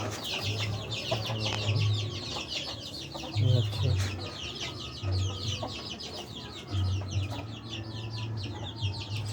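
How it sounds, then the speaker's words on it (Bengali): Hens and a rooster on a small poultry farm cluck and chatter continuously close by, with a person talking briefly over the flock. "এটা হচ্ছে আমার মোরগ এই মোরগটা আর একটা আরেকটা মুরগি রয়েছে"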